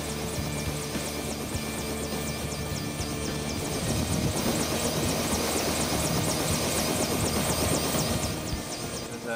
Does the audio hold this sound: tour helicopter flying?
yes